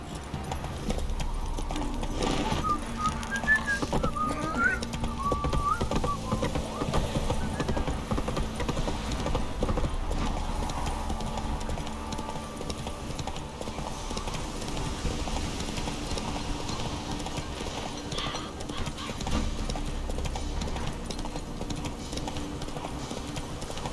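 Roach, a horse in The Witcher 3, trots with steady, rhythmic clip-clop hoofbeats that continue at an even pace for the whole stretch, close and clear, with only faint background sound.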